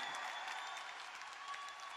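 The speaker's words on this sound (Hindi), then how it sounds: "इस पे तो खड़े होके ताली होनी चाहिए यार" Audience applause, a dense steady patter of many hands clapping at moderate distance, continuous throughout without pause.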